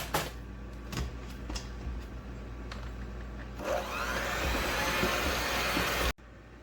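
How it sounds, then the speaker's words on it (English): An electric mixer runs at medium speed through pumpkin pancake batter, starting with scattered clinks and knocks before settling into a loud, steady whir that stops abruptly near the end. "mix this up on medium speed till it's all combined"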